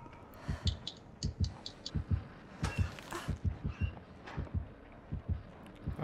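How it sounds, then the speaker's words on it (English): Killer's heartbeat warning in the horror game Dead by Daylight, a steady series of deep, thumping double beats repeating throughout, loud and close with no talk over it. "Because I still hear his heartbeat."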